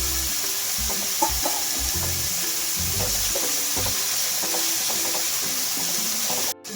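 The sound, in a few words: peas added to frying pan, sizzling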